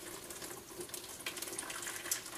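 Homemade organic almond milk poured into a metal strainer, a steady soft splashing stream of liquid that runs continuously and fairly quietly throughout, with no talking.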